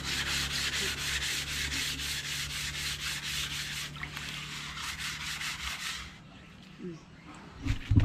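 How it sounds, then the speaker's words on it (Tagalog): Steady, continuous abrasive rubbing as dried cement is sanded off a tiled tabletop, loud and close for about six seconds before it stops and faint handling noises follow. "Ililihan na lang ni Buyog para, di ba mayroon yung pangpahid dyan para matanggal yung ano be? Yung semento"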